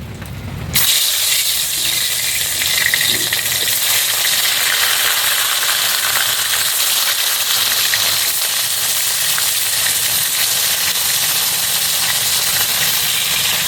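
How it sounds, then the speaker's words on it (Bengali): Salted, turmeric-rubbed fish frying in hot oil, a loud steady sizzle that bursts in after a brief moment and hisses on without a break, close up and with no talk. "এখন আমি মাছগুলোকে ভেজে নেব।"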